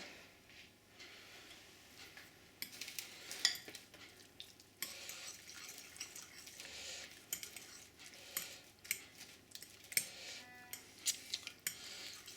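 Grated carrots being folded into carrot cake batter in a bowl make soft, irregular scraping and squelching strokes, quiet and close, with no talk.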